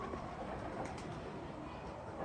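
Laal Pari pigeons cooing softly in a loft, low murmuring coos under steady background noise, with no clear voices.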